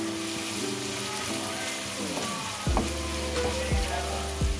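Minced keema cooking with yogurt, fennel powder and cumin powder in a pan, sizzling and hissing steadily as it is stirred, moderately loud and close, with a sustained musical backing underneath and no speech.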